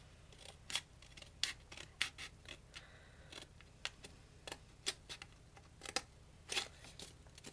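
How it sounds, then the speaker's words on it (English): Scissors snipping through Stampin' Up! card stock along a short score line, a series of sharp, close crisp cuts in an irregular rhythm with brief pauses between, heard alone without talk. "we're going to cut this short score line that we've just created"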